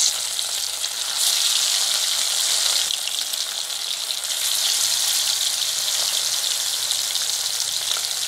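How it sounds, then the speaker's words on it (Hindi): Fish pieces fry in hot salted oil in a kadai, giving a loud, continuous crackling sizzle that holds steady throughout with no talking. "अब मछली का पीस तल लेंगे।"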